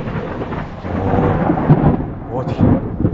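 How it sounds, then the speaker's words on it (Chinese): Rolling thunder rumbles close by during a heavy rainstorm, with steady rain hissing throughout and heard from inside a camper van. "感觉这雷就在我们周围"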